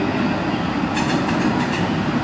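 A train rumbles steadily past up close, a loud continuous roar of wheels on track with some high metallic squealing mixed in.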